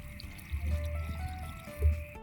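River water poured into a cooking pot for pork sinigang, a soft gurgling splash building midway and surging briefly near the end over faint background hum, with no talking.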